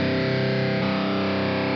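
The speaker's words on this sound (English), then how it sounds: "Let me tune down to the tuning that's actually supposed to be in." Distorted electric guitar being tuned down: a sustained, heavily overdriven string drone whose pitch shifts and settles partway through, loud and continuous with no speech.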